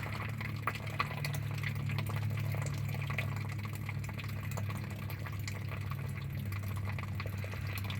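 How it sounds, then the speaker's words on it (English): Gray water splashes from the drain of a blocked Bighorn RV gray tank carrying heavy sandy sediment, a steady close wash of running, spattering water over a constant low hum, with no voices. "I'm not sure why we're splashing all over the place here."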